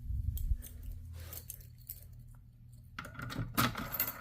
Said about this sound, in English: once I get my keys here